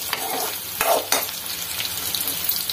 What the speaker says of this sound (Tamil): கோவக்காய் வதங்கட்டும்